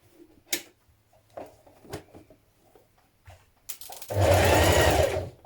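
A sewing machine stitches across the shoulder seam of an unlined winter coat, a loud sustained mechanical burst following scattered faint clicks and handling taps.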